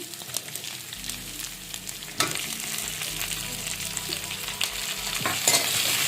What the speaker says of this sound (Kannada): ಈರುಳ್ಳಿ ಕಲರ್ ಚೇಂಜ್ ಆದಮೇಲೆ ಇದಕ್ಕೆ ಟೊಮೊಟೊ ಸೇರಿಸ್ತಾ ಇದ್ದೀನಿ.